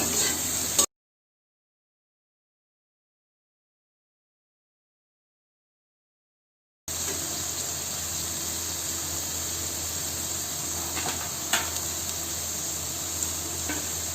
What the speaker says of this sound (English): carrot finely chopped. Saute them all together.